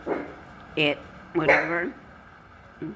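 A dog barks at hail in a few short yelping barks and whimpers in quick bursts, fairly close, with quiet gaps between them.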